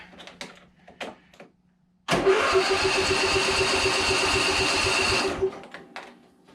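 A Husqvarna small engine on full choke is pulled and catches after a couple of quiet tugs, then runs at a loud steady chugging idle for about three seconds before cutting out, followed by faint clicks.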